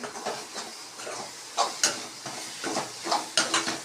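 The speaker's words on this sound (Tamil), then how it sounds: "அவ்வளோதான் கிண்டணும் நல்லா சுருள சுருள கிண்டிடுங்க" Maggi noodles being stirred in a pan, with repeated scraping strokes and a light sizzle and hiss that come in short uneven bursts, heard close with no voices.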